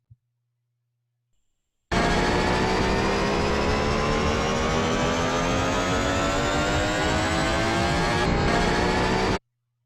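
A Shepard tone built from 12 semitone-spaced layers, a dense stack of tones gliding steadily upward and seeming to rise endlessly, bursting in loud and sustained for about seven and a half seconds before stopping abruptly.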